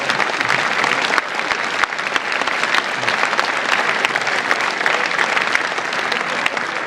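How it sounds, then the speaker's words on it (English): An audience at a philosophy event applauds steadily, dense continuous clapping filling the room at an even level for several seconds, with no speech over it. "Please give a big round of applause for Travis Pangburn and Pangburn Philosophy"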